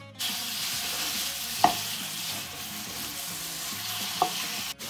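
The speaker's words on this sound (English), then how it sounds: "I'm going to saute them for about 20 minutes" Pork sausage meat, removed from its casing, sizzles steadily in a hot pan, a close and fairly quiet frying hiss with two light clicks of a utensil and no voices.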